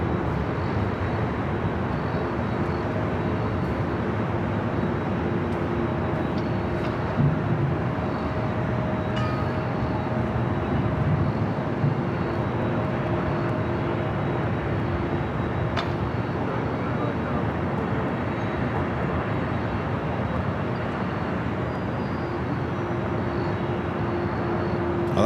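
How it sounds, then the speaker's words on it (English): A JetBlue Airbus A321neo arriving at LAX makes a steady, distant broadband roar that holds evenly for the whole stretch, with no other sound standing out. "Next arrival is JetBlue, flight 323, coming in from JFK, an A321neo."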